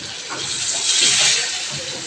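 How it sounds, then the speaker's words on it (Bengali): Hot water poured into a pot of curry with potatoes and vegetable stalks, a close, continuous rushing splash that swells in the middle and eases off over about two seconds. "এখন একটু গরম পানি দিয়ে দেব"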